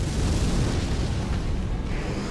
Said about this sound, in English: he's gonna go for his fire spit